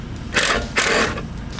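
Bolts being backed out of the tire carrier on a 2004 Jeep TJ Wrangler, with two short, loud mechanical whirring bursts separated by a brief pause, close up.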